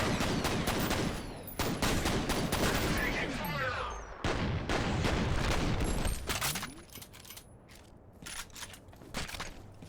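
Rapid bursts of machine gun fire in the shooter game F.E.A.R., set in a chaotic high-rise, loud and close. The shots come in dense clusters separated by brief pauses, with mechanical clatter between volleys.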